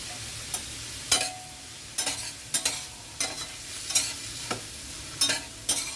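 Onions salted and lightly frying in a pan, a low sizzle broken by about eight sharp scraping strokes of a spatula at a loose, irregular rhythm, close up with no voices.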